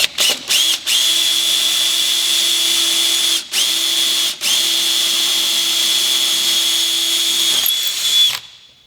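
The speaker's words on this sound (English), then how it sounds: "Now I'll switch the drill to forward, and we'll go ahead and just finish the hole." A power drill whines steadily and loudly as it bores through boat fiberglass, dipping briefly twice before winding down and stopping.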